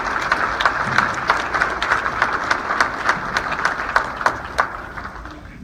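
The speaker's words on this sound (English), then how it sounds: "let's give him another round of applause and welcome him." Banquet audience in a hotel ballroom applauding at a fraternity scholarship dinner, a steady wash of many hands clapping with a few sharper individual claps standing out.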